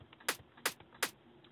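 A Vengeance VEC1 Percussion 02 snare sample in FL Studio hits three times in an even rhythm, sharp and crisp, alone with nothing else underneath.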